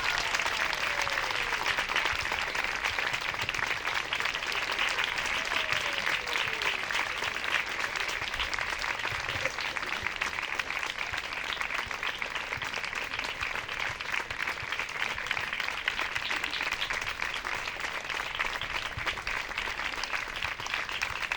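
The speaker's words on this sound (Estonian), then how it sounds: "Suur aplaus!" An audience at a children's dance concert applauds in a long, even burst of clapping that holds at a steady level, heard from a distance in a hall.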